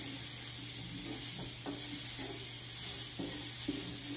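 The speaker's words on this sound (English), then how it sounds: "We're going to let these cook until the grape tomatoes burst and release some of their juice." Onions and grape tomatoes sizzle in a pan under a constant soft frying hiss, while a spoon scrapes through them in several short, evenly spaced strokes.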